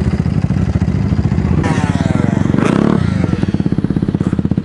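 An enduro motorcycle pulls away with a steady, rapid engine pulse that swells into a louder rev and clattering burst midway, then settles back to a throbbing run, loud and close with no talk.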